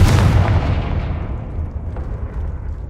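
Confringo blasting spells go off in Hogwarts Legacy, a loud, close explosion that bursts at once and rolls into a deep rumbling tail, with a smaller crackling hit partway through the fading boom.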